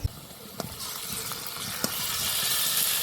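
Garlic paste hits hot oil in a pan with onion and cumin already frying, giving a steady broadband sizzle that builds slightly, with a few sharp pops near the start.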